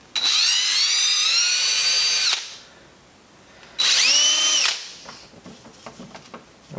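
Power drill boring small holes into the groove of a Mitsubishi Evo 8 steering wheel, two loud high whining bursts of a few seconds each separated by a pause, followed by faint tapping and handling noises.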